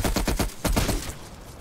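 A heavy light machine gun in Cold War Zombies fires a rapid burst of about eight close, loud shots in two quick clusters, fading into a short echoing tail.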